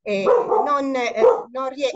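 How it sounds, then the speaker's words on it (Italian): A pet dog barks indoors in short, close yips interleaved with someone speaking Italian, several sharp bursts over two seconds. "Scusate il cane mio."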